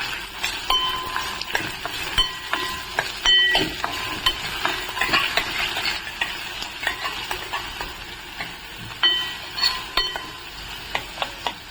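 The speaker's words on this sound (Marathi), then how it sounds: "इथे मी आहे ना 2 बारीक चिरून कांदा घेतलेला आहे. आपण छान असं आहे ना परतून घेणार आहे." Two finely chopped onions are sautéed in a pan for shev bhaji, with a continuous sizzle and a spoon scraping and clinking against the metal at irregular intervals, close and unvoiced.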